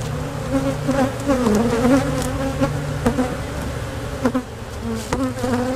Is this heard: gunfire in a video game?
no